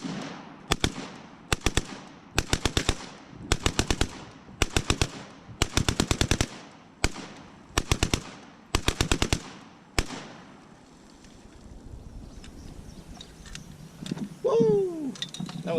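A Yugo M72 RPK rifle is bump fired outdoors in a series of rapid bursts of several shots each, loud and sharp with short gaps between bursts. It is followed by quieter rustling and a brief vocal exclamation near the end.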